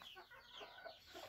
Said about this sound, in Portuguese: Nossa, essas galinhas aqui são muito bonitas